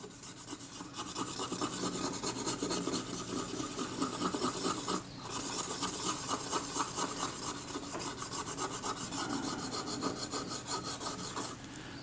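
Steady rhythmic scrubbing on a corroded aluminium part from a Kodak Retina IIIS camera as filth is cleared away, a close, rasping back-and-forth rubbing with a short pause near the middle.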